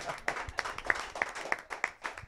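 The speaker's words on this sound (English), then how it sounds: "A round of applause, please." Steady clapping from a small telethon audience, a rhythm of repeated claps at an even pace, moderately loud with no talking.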